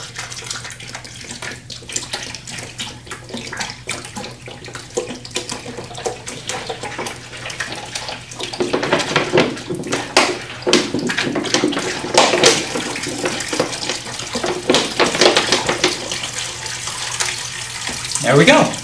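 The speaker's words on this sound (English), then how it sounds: "I'm simply going to add water to the basin once again." Water pours into the basin of a homemade Hero's fountain, a continuous rushing splash that grows louder partway through and stays close, with no talk over it.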